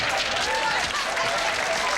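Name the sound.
audience applause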